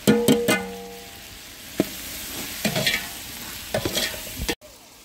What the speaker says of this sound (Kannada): ಟೊಮೆಟೊ ಹಾಕ್ತಿದೀವಿ. ಸ್ವಲ್ಪ ಕೊತ್ತಂಬರಿ ಹಾಕ್ತಿದೀವಿ.